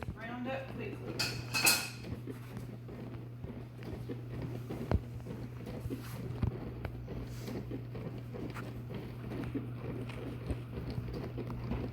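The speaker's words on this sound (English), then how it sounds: "I'm just going to crumble it up and brown it in the pan" Sausage crumbling and browning in a pan, with a utensil clinking and scraping against the pan in quiet, irregular taps over a soft steady hum. A voice speaks in places.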